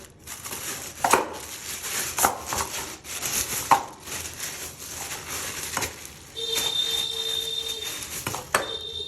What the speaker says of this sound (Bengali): মাছগুলো কাটতে হবে